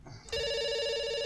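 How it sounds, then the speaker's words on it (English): A telephone in a video game rings, a steady electronic bell tone that starts abruptly and holds loud and continuous with no talk over it. "It's ringing."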